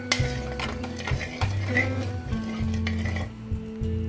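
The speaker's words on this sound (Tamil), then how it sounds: "நல்லா இந்த சூட்டோடயே நல்லா மிக்ஸ் பண்ணி விட்டுடுறேன்" A hot sweet mixture for a festival offering is stirred in a pot, with repeated close scraping and metallic clinks of the spoon against the sides over a faint sizzle.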